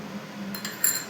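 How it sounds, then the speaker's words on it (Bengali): Eggs being whisked in a bowl for a roti roll, heard as a couple of light, quick clinks of utensil against the bowl over a low steady hum. "ডিম ফেটিয়ে নিচ্ছি।"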